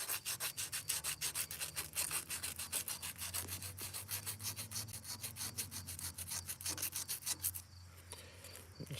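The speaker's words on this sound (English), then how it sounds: "So take more rust off." Rust being rubbed off a Dearborn baler knotter, a fast steady run of rasping back-and-forth strokes, close and fairly loud, stopping briefly near the end, with no talk.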